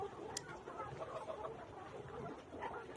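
Vaccinated layer hens clucking continuously in a group, a dense murmur of overlapping clucks and a few sharper calls, fairly close.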